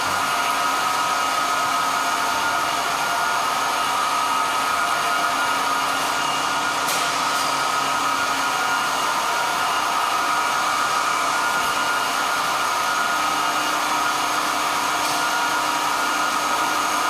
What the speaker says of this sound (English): can turn on the cooling fan